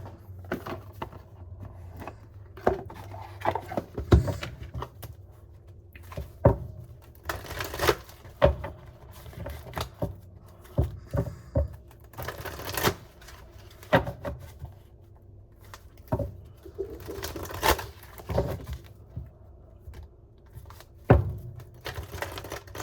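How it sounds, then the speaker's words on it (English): Intermittent soft clicks and rustling snaps, irregular and close, like cards being riffled and handled, with quiet gaps between bursts. "Lots of shuffling and stuff in here."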